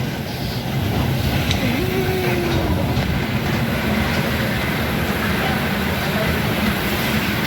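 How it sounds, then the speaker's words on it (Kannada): A Chennai Express train pulling out of a railway station, a loud steady rumble of wheels and carriages running throughout, with a faint squeal briefly audible. "ಇಲ್ಲಿ ನೋಡ್ರಿ ಟ್ರೈನ ಹೊಂಟತಿ."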